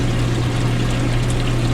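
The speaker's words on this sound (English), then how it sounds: "We keep very good water flow going in here." Strong water flow churns in a seahorse aquarium tank, a steady close pouring rush over a low pump hum, unbroken and with no voices.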